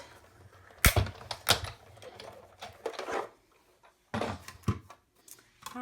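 Framelits dies run through a Big Shot die-cutting machine to cut paper shapes, giving a few sharp cranking clunks and rattles at irregular intervals with quiet stretches between, close and moderately loud.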